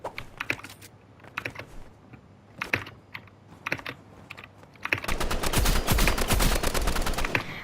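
Rapid laser and freeze ray weapon fire in the shooter game Rivals, with sparse, scattered shots at first, then a loud, dense burst of continuous firing toward the end.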